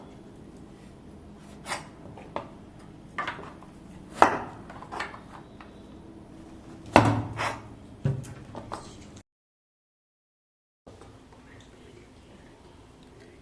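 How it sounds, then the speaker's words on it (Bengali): A kitchen knife peels and cuts half an ash gourd into thick pieces. Scattered crisp chops and scraping strokes come close up at an uneven pace, followed by a brief silence. "আমি হাফ চাল কুমড়োটাকে প্রথমে ছাড়িয়ে কেটে নেব"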